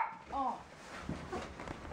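Dogs in a home give a few short yelps and whimpering barks in the first half second, then fainter sounds over a busy room background, with voices likely nearby.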